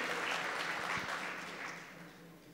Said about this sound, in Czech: Ano, potlesk, nemusíte váhat.